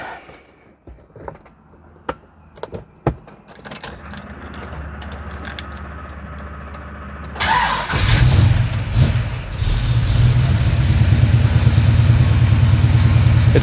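Pontiac 400 V8 bored out to 470 with FiTech fuel injection, cranking with clicks and a whirring starter, then catching and roaring to a loud, rough, steady idle with revs, close up.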